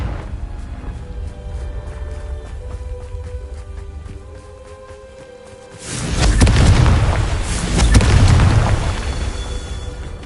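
Confringo fire spell blasts in a Harry Potter video game: a quieter crackling stretch gives way to two heavy, loud booming explosions in quick succession near the end.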